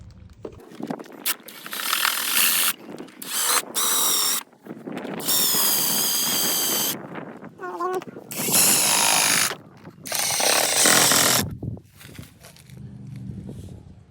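Drilling out a bolt hole in a carbon fiber fender on an Infiniti Q50, a power tool whining in loud repeated bursts of a few seconds each with short pauses between.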